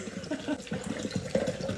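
Tap water pouring into a glass or bottle for a flavored drink, a short quiet trickling splash heard up close indoors with no talk.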